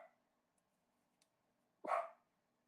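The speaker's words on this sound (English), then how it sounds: "That's my dog, y'all." A pet dog gives a single short, sharp bark after a stretch of near silence, fairly close but modest in loudness.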